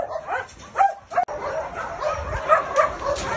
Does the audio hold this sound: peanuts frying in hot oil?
no